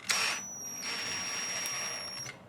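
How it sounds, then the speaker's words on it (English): A power drill running at very slow speed drills out two rivets on an instant camera, giving a steady, fairly quiet whine with a high tone that carries on for about two seconds. "I'm just going to drill out the two rivets just on a very slow speed"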